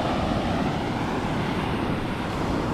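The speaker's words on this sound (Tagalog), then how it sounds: "medyo malalaki pa ang alon" Large sea waves break along a dirty shoreline, giving a loud, continuous roar of surf mixed with wind buffeting the microphone.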